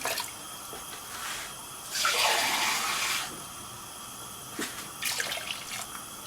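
About one and a half glasses of water pour into a cooking pot of rice in a short splashing stream around the middle, with a few quieter trickles before and after in a calm setting.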